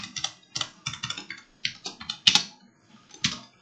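Close, crisp typing on a computer keyboard, a steady run of clicky keystrokes in quick groups with brief pauses and one sharper keypress near the middle, with no speech.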